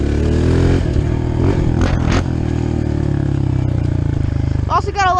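A dirt bike on a woodland trail revs and surges through wheelies, engine pitch climbing and dropping in loud close passes with rattling clatter, while the rider talks over it.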